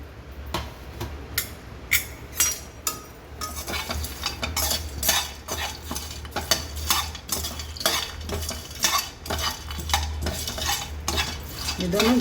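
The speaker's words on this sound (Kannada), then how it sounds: "ಘಮ ಬರೋವರೆಗೂ, ಪರಿಮಳ ಬರೋವರೆಗೂ ಹುರಿಬೇಕು" Whole spices for Brahmin-style saaru powder being dry-roasted and stirred in a pan, with a steady run of scraping and rattling ticks from the utensil, close and moderately loud, with no talk.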